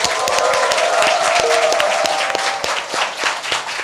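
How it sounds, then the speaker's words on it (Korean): A studio audience at a Korean current-affairs talk show claps and cheers loudly, with sharp individual claps standing out from the dense sustained applause, which eases slightly toward the end. "여러분의 힘찬 박수와 환호와 함께 시작하겠습니다."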